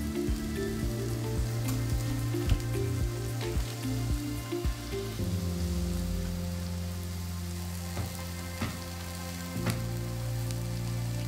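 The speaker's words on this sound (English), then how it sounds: "these are actually starting to get on some nice color there." Mushrooms fry in a pan for a mushroom risotto, giving a steady, close, loud sizzle with crackling pops throughout and no voices.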